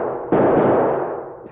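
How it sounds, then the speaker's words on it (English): A single sharp gunshot with a sudden onset and a long ringing decay, loud and close, in a Lone Ranger radio drama gunfight. "Those last shots were awful close."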